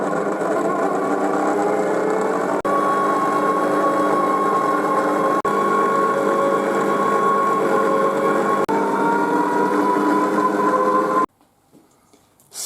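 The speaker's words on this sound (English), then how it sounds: "add the eggs. And whisk until they come together" An electric stand mixer whisks eggs into rum baba batter, humming in a loud, steady, continuous drone that stops abruptly near the end, leaving faint clatter.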